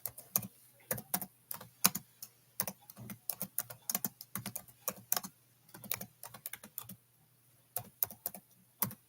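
Quick, uneven keystrokes clatter on a computer keyboard, close and fairly quiet, in short flurries with brief pauses, with no voices over them.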